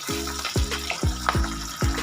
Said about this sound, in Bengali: এখানে আমার মাছের এক পিঠটা ভাজা হয়ে গেছে আমি আরেক পিঠটাকেও উল্টে দিয়েছি